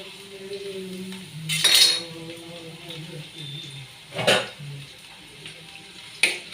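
Onion and green chili sautéing in a pan as a utensil stirs, with soft sizzling and several sharp metal scrapes and clinks against the pan at intervals.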